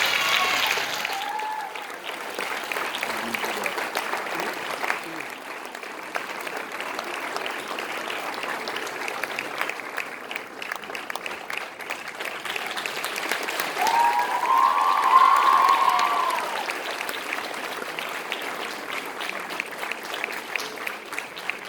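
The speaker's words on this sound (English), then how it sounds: "the cheer from the students says it all" Students cheer and applaud at a girls' final awards ceremony, a broad, steady wash of clapping with crowd voices that swells loudest about two-thirds of the way through before settling back.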